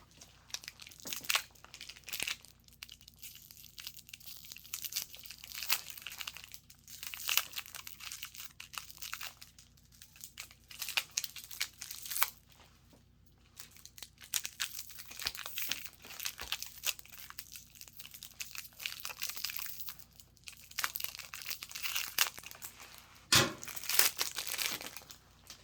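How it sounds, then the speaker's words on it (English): Twisted plastic wrapper of a lollipop being pulled open, crinkling and crackling in a long, irregular, close-up stretch with sharp crunchy bursts throughout. "Lollipops are always so hard to open. Any kind of sucker. They always have that plastic completely twisted around."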